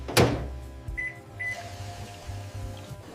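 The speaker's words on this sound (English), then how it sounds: "Put the milk in the microwave and heat it up" A microwave oven heating milk: a sharp door thud, then two short electronic beeps and a steady low operating hum, close and clear.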